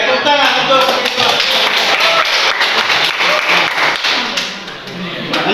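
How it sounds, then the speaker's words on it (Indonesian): Applause for a group presentation at a student activity event, a dense patter of claps from the audience filling the space steadily and fading slightly near the end, with some voices mixed in. "tepuk tangan untuk itu"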